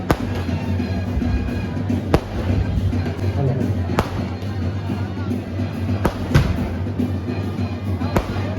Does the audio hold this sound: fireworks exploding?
yes